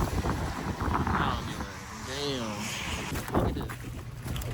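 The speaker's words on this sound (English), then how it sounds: "I don't know if y'all can hear me good or not because it's windy as hell" Wind blowing hard during a snowstorm, with ice coating the parked cars. It makes a gusty, rumbling buffeting against the microphone while someone speaks over it.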